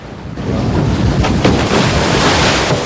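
Steady wind rushing over open water on the Columbia River Gorge at the Oregon-Washington border, windsurfing country, a loud continuous roar with buffeting gusts and no voices.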